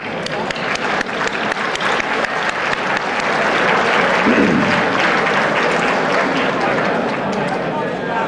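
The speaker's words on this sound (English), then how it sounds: "I want to give a round of applause to our supporters" An audience at a Space Tourism Society awards banquet gives a loud, sustained round of applause for its supporters, with dense clapping that swells and holds steady throughout.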